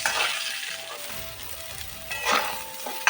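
Sliced potatoes and bottle gourd stems fry lightly in oil in a kadai, a steady sizzle broken by the scrape and clink of stirring, with a few sharper bursts toward the end.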